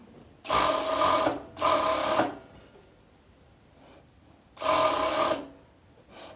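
A sewing machine stitches a long sleeve onto a women's pajama top, running in three bursts of whirring, rattling stitching with short quiet pauses between them, close and loud.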